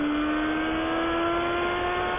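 A Honda 600 Hornet motorcycle engine holds a high, steady revving whine, loud and close, with a strong sustained tone throughout.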